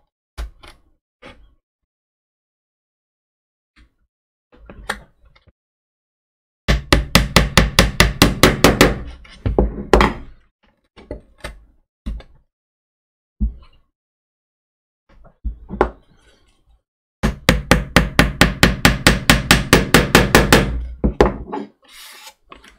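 Small clamps are worked onto the wooden hull planking of a 1:200 model of the Prinz Eugen, giving two long runs of rapid ratcheting clicks close by, separated by sparse single taps and knocks.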